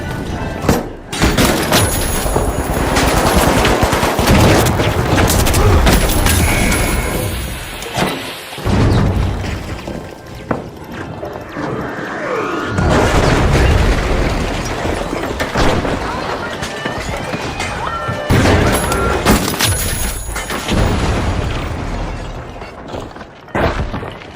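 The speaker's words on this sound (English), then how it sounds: "Throwing pyro grenade!" Pyro grenade blasts and gunfire in the video game The Finals form a loud, dense, chaotic wall of booms, crackles and shattering bursts. Voices are heard over the action.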